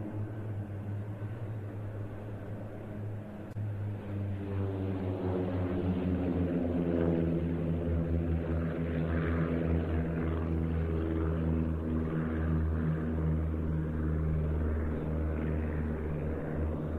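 Propeller display aircraft at the RIAT air show, flown by flight instructors, drone steadily overhead for the full stretch, a moderately loud engine hum that swells slightly and holds without speech.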